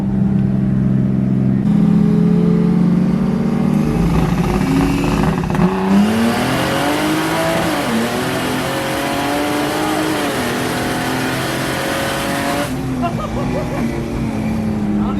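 A Barra-powered Bedford accelerates hard in a roll race. Its engine drone climbs and wavers in pitch through the run, loud and close, then drops back near the end.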